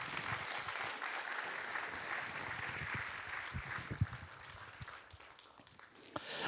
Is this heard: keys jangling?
no